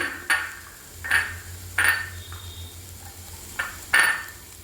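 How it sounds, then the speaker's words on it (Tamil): Bitter gourd, carrot and grated coconut stirred together in a pan for a thoran, with six distinct metallic scrapes and clinks of a spoon against the pan spaced about a second apart over a low steady hum. "இதெல்லாம் கூட நல்ல மாதிரி மிக்ஸ் பண்ணி எடுங்க."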